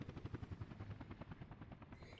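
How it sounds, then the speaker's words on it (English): Helicopters flying back and forth overhead in Workers & Resources: Soviet Republic, a rapid, steady rotor chop thumping throughout at moderate loudness. "With choppers going forth and back over top of us, right?"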